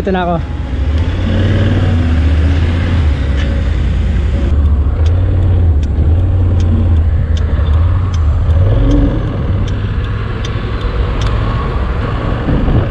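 A Kymco AK 575 maxi-scooter, around 500cc, rumbles close by with a deep engine note that swells as it revs, while people talk over it.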